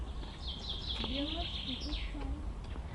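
Small birds chirp and tweet in short, scattered calls near a pond in a Moscow park, with rising and falling whistles over a low, steady outdoor background.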